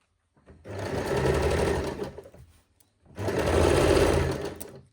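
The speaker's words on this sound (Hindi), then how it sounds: "हम एक मोटी चाल से सिलाई लगा लेंगे" Electric sewing machine running a long, loose basting stitch on frock belt fabric, heard as two separate steady whirring bursts of about two seconds each with a short pause between them, close and clear.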